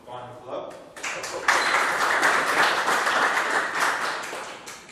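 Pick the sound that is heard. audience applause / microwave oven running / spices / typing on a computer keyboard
audience applause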